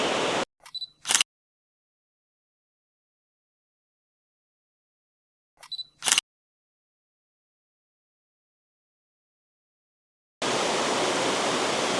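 Benton Falls waterfall gives a steady broadband rush, heard briefly at the start and again loudly over the last two seconds. In between there is near silence, broken by two short clusters of camera shutter clicks.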